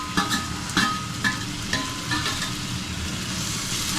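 Tomatoes frying in a pan with coriander and mint for fried rice, a constant loud sizzle with a few spoon knocks and scrapes near the start, close up.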